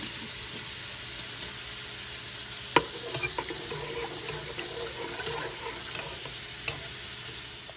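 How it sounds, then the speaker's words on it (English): Water with about two tablespoons of maple syrup heating toward a boil in a big pan, a steady bubbling hiss with a few faint clinks, no voices. "In a big pan, bring some water to a boil with about 2 tablespoons of maple syrup or honey"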